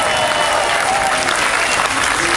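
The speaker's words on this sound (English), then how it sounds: "Let's give him a big round of applause" Applause from an audience at a live interview event, dense and steady across the whole stretch with a bright hiss of many hands and no pause.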